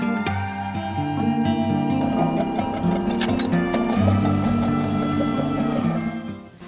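A sewing machine fitted with a Teflon foot stitches through a rubber sheet, running as a steady mechanical whir with rapid repeating ticks throughout and slowing to a stop at the very end.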